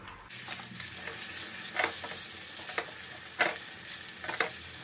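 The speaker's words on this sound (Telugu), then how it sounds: "ఇప్పుడు ఈ కోకోనట్ ఆయిల్లో ఈ మందార రేకులు ఇట్లా వేసుకోవాలి" Hibiscus petals drop into hot coconut oil, giving a soft, steady sizzle and crackle with several brief louder pops as pieces hit the oil, close and fairly quiet, with no talk.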